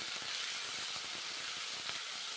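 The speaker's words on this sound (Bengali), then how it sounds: "মশলা বেশ ভালো করে কষে নিতে হবে" Ground spice paste of garlic, onion, green chilli and coriander leaves frying in a pan, a soft steady sizzle and hiss with faint crackles, close and quiet, without voices.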